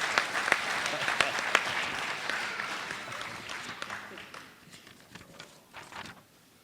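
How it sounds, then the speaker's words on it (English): A school hall-of-fame induction audience gives sustained applause, with sharp individual claps over a broad crowd wash that thins and fades toward the end. "Please join me in giving another round of applause to the entire class of 2024 Academic Hall of Honor and Athletic Hall of Fame inductees."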